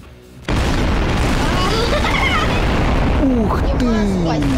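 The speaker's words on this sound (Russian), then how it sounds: "Ну хочу эпичный взрыв." A huge explosion in the video game Garry's Mod: after a quiet half second a massive boom erupts into a loud, continuous roar of blast noise with crackling debris that holds steady to the end.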